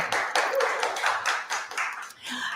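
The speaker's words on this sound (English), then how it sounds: "Give yourself an applause for being here." A modest crowd at a community event on Haitian youth claps in uneven bursts, the individual hand claps fairly distinct and moderately loud, fading near the end.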